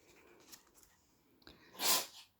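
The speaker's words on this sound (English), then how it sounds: "that was my cat sneezing" A pet cat sneezes once, a sharp close burst near the end after a quiet stretch of faint room sounds and soft rustles.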